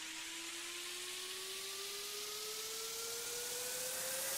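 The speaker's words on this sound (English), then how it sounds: "some risers and downers and impacts to bring it into that second breakdown" Electronic riser effect from a big room tribal house track, a hissing noise sweep with a slowly climbing tone building steadily for several seconds, smooth and unbroken with no voices.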